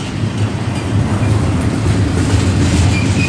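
A BNSF and Union Pacific freight train rolls past at Tehachapi, a loud, steady rumble of wheels and cars with faint clickety-clack throughout, with no talking.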